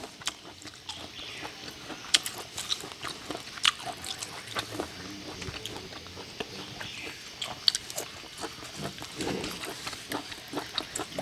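Close, wet chewing and biting on a Thai dish of mushrooms cooked in leaf parcels and boiled spicy, with soft squishy mouth sounds and small clicks repeating steadily throughout, no talking.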